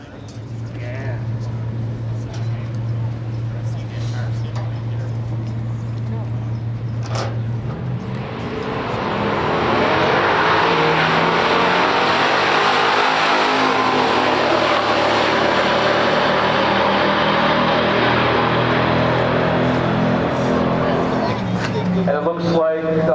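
Two 1969 muscle cars, a Dodge Super Bee A12 and a Chevrolet Camaro Super Sport 396, launch in a quarter-mile drag race; a steady idle gives way to a loud, sustained roar of engines accelerating away, with some speech present.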